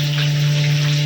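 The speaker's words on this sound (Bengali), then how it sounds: "তো আলুটা ভাজতে দিয়েছি তেলে" Potato pieces fry lightly in hot oil with turmeric, giving a steady, close sizzle and crackle that holds evenly throughout, over a constant low electrical hum.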